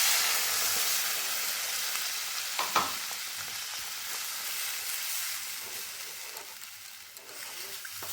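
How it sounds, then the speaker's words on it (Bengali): Steady close sizzling and frying hiss as water is poured into spice paste fried down in a pan for a Bengali chital fish muitha curry, with a brief louder burst near the start and no talk. "মশলাটা কষে দিয়েছি, তাই এখন আমি এর মধ্যে দিয়ে দিচ্ছি জল।"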